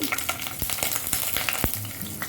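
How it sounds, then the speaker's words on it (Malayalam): Slit green chillies and curry leaves fry in hot coconut oil with mustard seeds, giving a dense, steady close sizzle with a few sharp crackles and light stirring scrapes, and no voices. "അങ്ങനെ പച്ചമുളകും കറിവേപ്പില മൂത്ത് വന്നിട്ടുണ്ട്."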